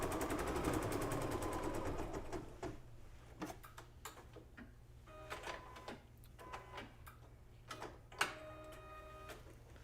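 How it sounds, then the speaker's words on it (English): An embroidery sewing machine stitching a tack-down line, with rapid mechanical needle ticking and whirring in bursts, some sharper clicks between runs, heard close and fairly quiet with no talking. "Just going to watch that my presser foot doesn't catch a hold of them when it does the tack down."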